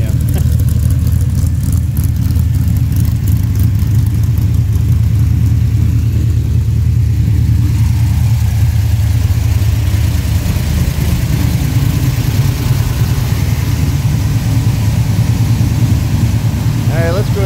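All-aluminum Pontiac 522 cubic inch pump-gas engine idling, a loud close lumpy rumble with a steady choppy rhythm that continues throughout, with a brief voice near the end.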